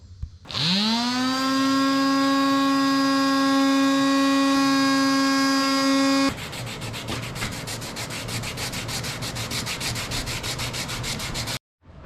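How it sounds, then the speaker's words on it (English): An electric sander runs steadily and loud for about six seconds with a strong whining tone, then turns into a rougher, pulsing grind as it sands down a car stereo trim piece, cutting off abruptly near the end. "we're going to grab a sander and we're going to sand this down so that it fits perfectly around our stereo"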